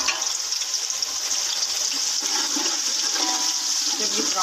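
Chopped onions and a pinch of cumin seeds hit hot oil in a pan during biryani preparation, giving a loud, steady, close sizzling hiss that runs unbroken throughout.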